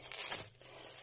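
A plastic bag being crinkled and moved aside while unpacking towels, a brief close rustle lasting about a second with no speech.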